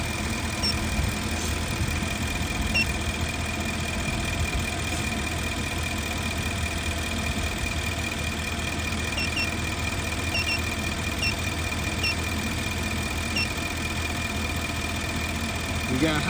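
Infiniti QX80 engine idling with high fuel trims on bank 1 and suspected low voltage, a steady continuous hum and drone heard up close under the hood, with faint speech in the background.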